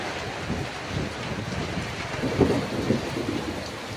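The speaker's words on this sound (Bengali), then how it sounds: "এত জোরে বৃষ্টি হচ্ছে।" Heavy rain pours down over a canal in the Sundarbans in a loud, steady roar, with low rumbling gusts rising and falling beneath it.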